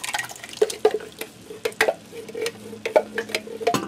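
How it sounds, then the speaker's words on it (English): Crushed tomatoes from a 28-ounce can slop into drained, browned hamburger in a pot and get stirred, with wet squelching scrapes and spoon knocks repeating irregularly, close and moderately loud, with no talking. "I'm going to dump in a 28-ounce can of crushed tomatoes."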